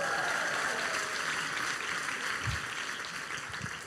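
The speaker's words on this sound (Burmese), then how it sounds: "နောက်တစ်ခေါက်လက်ခုပ်တီးပေးပါ" Applause from an audience at a worship conference, a steady rush of many hands clapping at moderate volume that holds evenly and fades slightly toward the end, with no talking over it.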